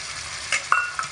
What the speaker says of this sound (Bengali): হালকা একটু নাড়াচাড়া করে দেব।